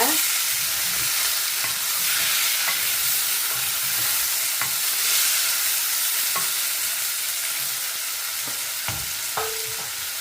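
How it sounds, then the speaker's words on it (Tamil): Tomatoes being stirred into long beans curry frying in a pan, a steady close sizzle running throughout with scattered soft scrapes and clicks of the spoon, no talking. "இந்த தக்காளி பழத்தை போட்டுட்டு ஒருக்கா மிக்ஸ் பண்ணிக்கிறேங்க"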